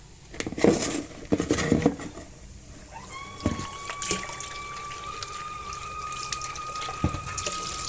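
Dishes being washed under running water at a sink: clinks and clatters of items being handled, then a steady stream from a faucet that runs on with light splashing.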